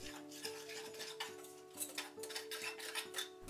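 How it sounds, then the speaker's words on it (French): A whisk scrapes and taps rhythmically around a bowl of white sugar, cornstarch and a pinch of turmeric, a quiet repeated stirring pulse with faint clinks, alone and soft. "Du sucre blanc, de la fécule de maïs, une touche de curcuma pour la couleur et je mélange bien le tout au fouet."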